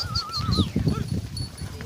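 A billy goat bleats among a herd of cattle in a farm field, with wavering cries close by over a low rumble of the herd and people talking.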